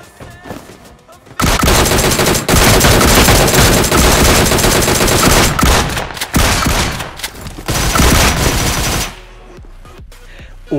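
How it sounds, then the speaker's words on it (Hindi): Gunfire in a mobile battle royale shooter game: dense, loud bursts of automatic fire and rapid shots that run almost continuously for about seven seconds, then stop abruptly, leaving a quiet tail. "सामने से ही गोलियाँ चल रही हैं"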